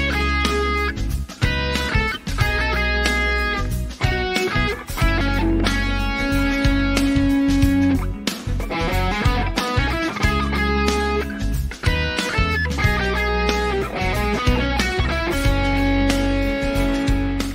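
Electric guitar playing a blues example with arpeggio-based phrasing, a continuous stream of picked notes with sustained tones, close and steady in level, alone with no talking.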